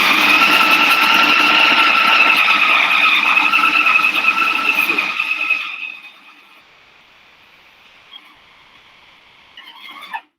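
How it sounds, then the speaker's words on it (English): A food processor's motor mixes homemade pasta dough with a loud, strained whine that runs steadily for about five seconds, then cuts out, leaving near-silence broken by a few faint clicks at the end. "see how the machine, you start to sound like it's struggling"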